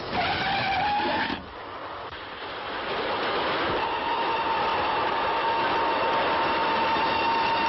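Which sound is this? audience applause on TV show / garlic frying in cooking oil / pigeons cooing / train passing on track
train passing on track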